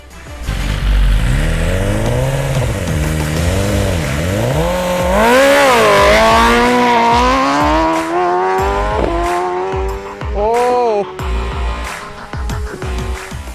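High-revving drag-racing motorcycles, including a Kawasaki ZX, scream through rising gear shifts, loud and close, with the pitch climbing and dropping repeatedly before fading slightly at the end.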